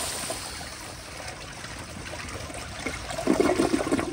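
A 1978 Kohler Wellworth Waterguard toilet on a flushometer flushing, a faint hissing rush of water that swells into louder gurgling toward the end.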